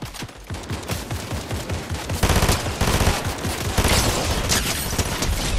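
Rapid gunfire in Fortnite, a dense, loud stream of repeated shots that continues without pause and grows heavier midway, with no talk over it.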